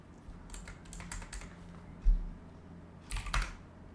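Fingers typing a short command on a computer keyboard, a close run of quick clicking keystrokes followed by a pause, then a final burst of keys and a heavier press.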